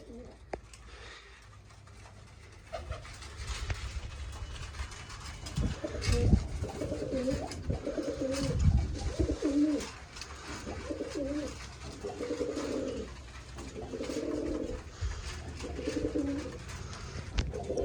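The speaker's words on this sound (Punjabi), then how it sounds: "ਉਹ ਕਬੂਤਰ ਤਾਂ ਮਸਤ ਹੋਇਆ ਫਿਰਦਾ ਪੂਰਾ" Pigeons in a home loft coo in a steady series of soft, throaty, rising-and-falling calls, close by, with faint background activity and a few low bumps.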